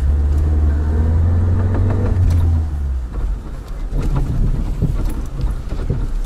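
A Lada Niva 4x4 stuck on a sandy hill revs its engine in a loud, steady drone as the wheels spin and dig into the sand, the rumble dropping and surging again partway through.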